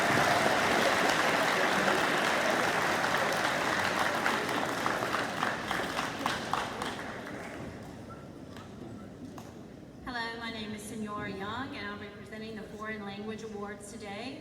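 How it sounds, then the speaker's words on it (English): Audience applause at a high school awards ceremony for award-winning students, dense clapping from a crowd that fades out over several seconds, followed by a voice speaking. "Let's give these students a round of applause."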